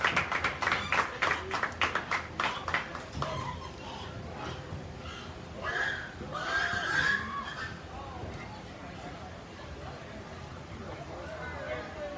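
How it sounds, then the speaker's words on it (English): Audience at a county 4-H market swine show gives a round of applause for the Hereford hog exhibitors, a burst of clapping that fades within a few seconds, followed by crowd murmur and an announcer talking. "Give all the Hereford exhibitors a big round of applause"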